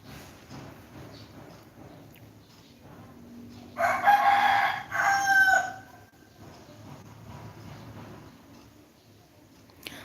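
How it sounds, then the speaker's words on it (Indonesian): A rooster crows once at moderate distance, a loud drawn-out call lasting about two seconds that stands out over a quiet background murmur. "Ada suara ayam, saya juga piara ayam."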